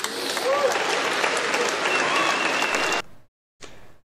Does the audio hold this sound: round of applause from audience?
yes